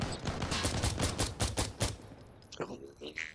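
Rapid gunfire from the tactical shooter Insurgency Sandstorm crackles in dense, loud bursts for about two seconds, then gives way to scattered fainter shots and clatter.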